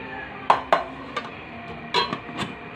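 Metal lid set down on a cooking pot of taro leaves: a few sharp clanks and clinks, two close together, then several lighter knocks, near and clear.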